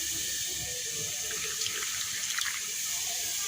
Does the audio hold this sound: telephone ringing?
no